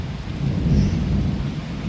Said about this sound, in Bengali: বৃষ্টি হচ্ছে, তবে মুষলধারে বৃষ্টি হচ্ছে